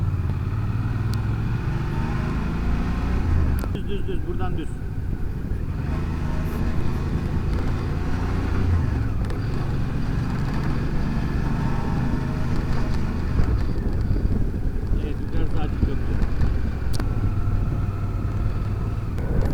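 A motorcycle ridden through busy city streets toward the Uhud area, its engine droning steadily amid surrounding traffic noise, with people talking over it throughout.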